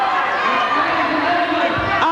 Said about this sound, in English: Our crowd are going crazy